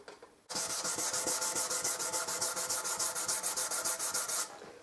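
Steady, loud rasping of 500-grit silicon carbide sandpaper rubbed back and forth over the back and sides of an archtop guitar in quick even strokes, starting abruptly and stopping after about four seconds.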